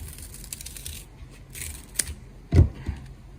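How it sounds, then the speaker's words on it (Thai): Scissors cut through fresh banana leaf while a krathong is being made, giving a couple of short crisp snips near the end of a quiet stretch, with faint handling rustle before them. "แล้วก็เอากรรไกรตัดได้เลยนะครับ"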